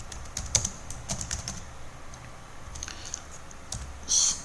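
Fingers tap out a short run of keystrokes on a computer keyboard close by, irregular light clicks with brief pauses and a slightly louder burst at the end; no voices.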